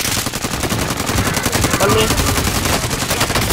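Rapid automatic assault rifle fire in a video game, a loud, continuous stream of evenly spaced shots, with a brief spoken word mixed in.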